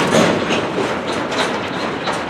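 A CSX mixed freight train rolls forward again after stopping in Brunswick, its wheels giving a steady rumbling clatter of railcars passing close by, with no talking.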